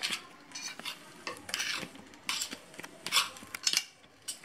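A knife cuts soft steamed rava vegetable dhokla into small pieces on a plate, giving quiet, irregular taps and scrapes up close. No one speaks.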